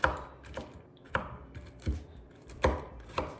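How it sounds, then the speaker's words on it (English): A knife chops pecans on a cutting board in sharp, separate strikes, about one every half second, close and clear with no talking. "Yeah, my chopping technique is just amazing."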